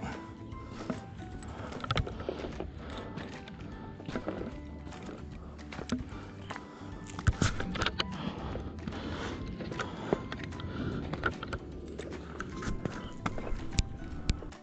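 Horses' hooves clip-clop at a riding ground beside a Hong Kong hiking trail near Tai Leng Tung, a scattered, uneven patter of thuds heard at a distance over steady outdoor background noise.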